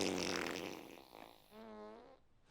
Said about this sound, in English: I ruled the fart inadmissible